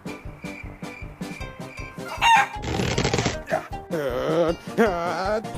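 A rooster crows loudly amid busy game-like blips, clucks and flapping wings, with short bursts of electronic effects around it.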